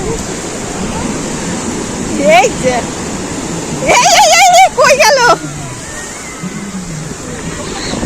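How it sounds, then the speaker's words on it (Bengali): Ocean waves break and wash continuously on a beach at a seaside wedding. People talk and call out close by over the steady roar of the surf. "খুব পরিমাণে ঢেউ আসছে, প্রচুর পরিমাণে ঢেউ আসছে"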